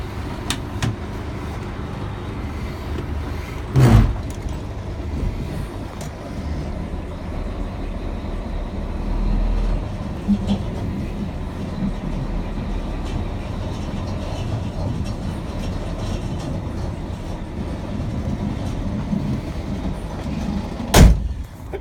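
A VDL hook lift loading a container onto a lorry, heard as a steady low mechanical hum of engine and hydraulics, with a couple of sharp metallic clunks near the start and end, close by and without speech.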